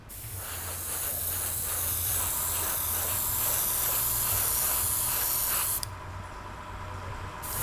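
Airbrush spraying Green Stuff World color shift paint, a steady continuous hiss of air and paint held for about six seconds before it cuts off abruptly, leaving a quieter airflow.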